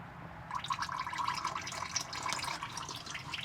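Engine oil draining from a Ford F150 oil pan into a catch pan, a steady trickling and dripping stream that starts after a short pause and continues throughout.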